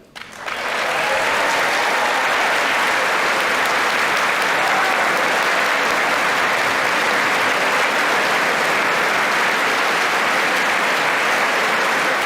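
Loud, sustained applause fills a congressional chamber, dense clapping from a large crowd that starts abruptly and holds steady for the full stretch without letting up.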